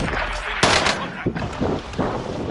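Gunfire in the video game Vanguard: several sharp broadband bursts, the loudest around the middle, over a steady noisy backdrop with a voice speaking in between.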